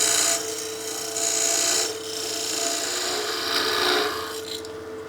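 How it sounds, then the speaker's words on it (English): A cutting tool chamfers the crisp edge of an aluminum blank spinning at about 2000 RPM on a lathe, giving a steady close rasping scrape with bright hiss that swells and eases over several seconds. "I'm just going to chamfer this edge so I can catch this piece and not get cut"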